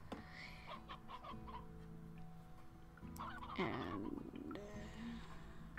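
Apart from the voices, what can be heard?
chickens clucking, rooster and hens, in video game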